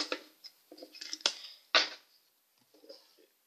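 Pokémon cards being shuffled one-handed, a few close, irregular papery flicks and snaps separated by short pauses.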